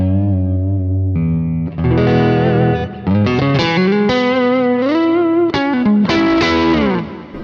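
Electric guitar run through a Kemper profile of a 1962 Princeton amp with a 10-inch speaker, low bass notes then rising chords and riffs, loud and continuous with a chorus-like shimmer, no voice.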